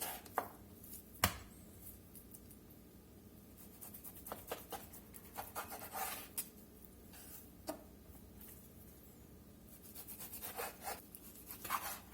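A knife chops beef into inch-and-a-half stew chunks on a cutting board, the sharp close strikes coming in uneven bursts with short pauses between them, no voices.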